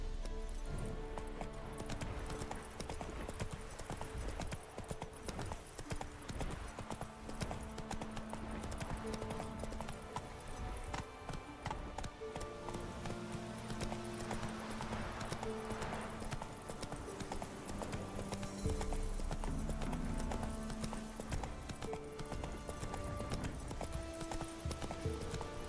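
Horse hooves gallop in a steady, continuous clip-clop rhythm under a busy game soundtrack with music, as a mount runs in The Witcher 3: Wild Hunt; a faint whinny may surface briefly.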